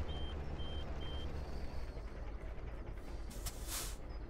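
In Farming Simulator 17, a Deutz Fahr Agro XXL tractor backs up toward a trailer, sounding evenly spaced electronic reversing beeps over a steady, droning diesel engine.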